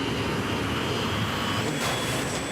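Airbus airliner jet engine in flight: a loud, continuous broadband roar with a steady whine, heard from inside the aircraft and unbroken throughout.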